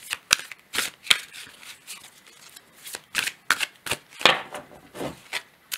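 Tarot cards of a psychic deck are shuffled close up in quick repeated riffles and slaps, a rhythmic series of crisp papery bursts with short pauses between them.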